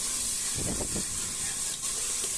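Onions frying in hot oil for a rustic goat head and leg curry, giving a steady, close sizzling hiss with a few brief bursts of crackle and no one talking.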